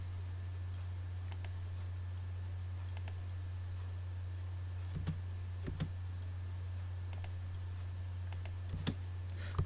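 Computer keyboard keys tapped during CAD software work, a few sparse clicks spread out over a steady low electrical hum, faint and close.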